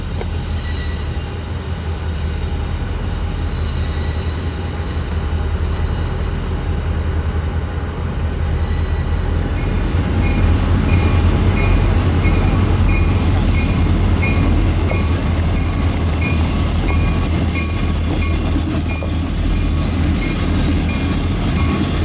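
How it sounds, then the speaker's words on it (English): An excursion train pulls west out of a station to reverse onto a wye. A steady rumble of railcars rolls on with sustained wheel squeal that grows louder partway through, heard up close. "the Pittston excursion pulls west from the station to reverse its train onto the Y."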